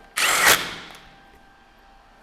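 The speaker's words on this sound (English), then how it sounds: "We got the Allen key on the impact again, and we're just going to hammer them on." A brief, loud burst from an impact wrench driving bolts with an Allen key on a Nissan Hardbody, about a third of a second long, then a quick fade and a faint click.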